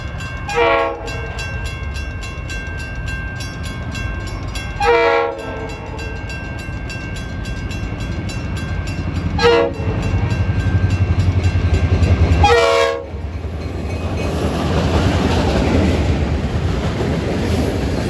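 A New York and Atlantic freight train rumbles steadily past up close, its horn sounding several long blasts over the continuous rolling clatter of wheels.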